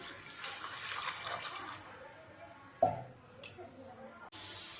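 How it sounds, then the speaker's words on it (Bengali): Water pours into a cooking pot for a chickpea curry, a steady wash of liquid that tapers off, followed by a few short clinks of utensils against the pot. "এবার দিয়ে দেব জল"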